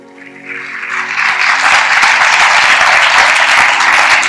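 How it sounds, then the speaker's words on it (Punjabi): A church congregation claps hard during a sermon, the applause swelling within the first second into a loud, dense, sustained roar over a faint steady tone underneath. "ਤਾਲੀ ਮਾਰੀਏ ਜ਼ੋਰ ਦੇ ਨਾਲ"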